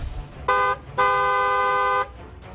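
A car horn honks twice, first a short toot and then a longer blast of about a second, loud and close over low street rumble.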